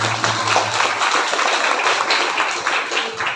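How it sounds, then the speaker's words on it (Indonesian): A crowd applauds at a Dharma Santi Nyepi celebration of the Hindu Kaharingan community, with dense, steady clapping filling the whole stretch at close range and a low hum underneath. "Tepuk tangan."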